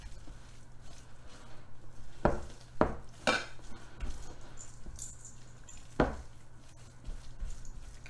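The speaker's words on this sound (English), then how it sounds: "we're going to put a quarter of that in here first and kind of mix it around" Whipped cream folded into peanut butter in a bowl for a keto mousse: a spoon or spatula scrapes and clinks against the bowl, with a few sharper knocks scattered through a quiet, soft stirring background.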